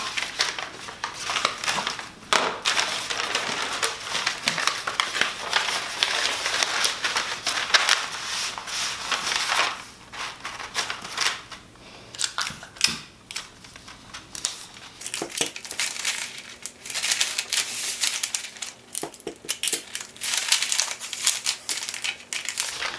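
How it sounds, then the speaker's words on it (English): Paper dress pattern pieces being taped together, with continuous crinkling and rustling of paper and tape handling close by, steady throughout with brief quieter stretches. "Let's tape that one on now."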